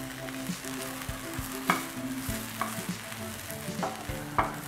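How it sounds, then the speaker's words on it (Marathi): Cluster beans being stir-fried in a pan make a soft steady sizzle, with a spatula scraping and clinking against the pan every second or so, close and quiet with no talk. "गवारीचा थोडासा कलर बदलेपर्यंत परतून घ्यायचं आहे"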